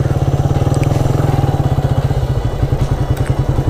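A motorcycle engine idles close by with a steady, rapid putter that continues throughout, with a few light clatters near the end.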